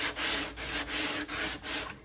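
Sandpaper is rubbed back and forth across wood in five or six even, rhythmic strokes, a close, dry, gritty scraping that is heard alone and fairly quietly.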